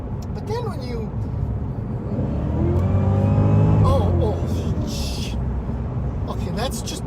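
Engine of a 2018 Cadillac CTS-V roaring under hard acceleration, rising in pitch through the revs, peaking loud, then shifting and climbing again, with a brief voice over the noise.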